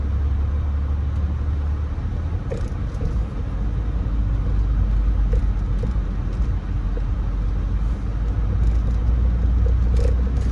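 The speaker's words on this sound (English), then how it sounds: "We got a car coming towards us." A car drives along a cement street in the Inglenook neighborhood of Birmingham, Alabama, giving a steady loud engine and road rumble throughout with no one speaking.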